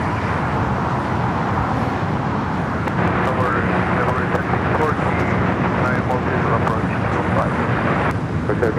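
Turkish Airlines jet rolling down runway 24 left at LAX: a continuous moderate engine rumble with wind-like roar, steady throughout, under people talking.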